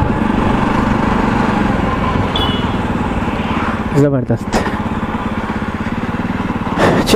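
A Jawa 42 Bobber motorcycle engine runs with a steady, throbbing note close by, mostly under someone talking, with a brief dip in the middle.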